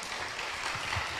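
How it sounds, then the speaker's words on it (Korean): Quiet, dense applause from a church congregation at a Friday prayer meeting, with many hands clapping at a fairly distant level. "박수 한번 해주세요."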